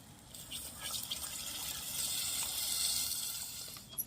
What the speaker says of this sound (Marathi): रसेसाठी पाणी वतून घेते